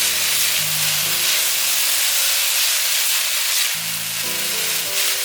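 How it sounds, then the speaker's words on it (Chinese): Potatoes and cucumber stir-fry in a wok over medium-low heat, giving a steady, close sizzle with soft stirring scrapes throughout and no talking. "这时候可以开中小火炒"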